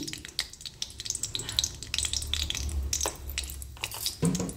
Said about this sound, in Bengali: এখানে দিয়ে দিচ্ছি একটু সাদা জিরে আর একটু দেবো সামান্য একটু দেবো হিং